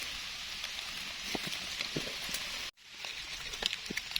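Rain pattering down in a mushroom-foraging forest, soft steady patter with scattered drops, faint and close, briefly cut out midway.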